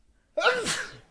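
A single loud, close sneeze from a person with allergies: a quick intake, then a forceful, breathy burst that fades within a second.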